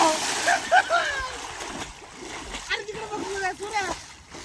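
Someone swimming on their back in a river kicks up a few loose splashes and water slaps, heard close under people talking and calling out.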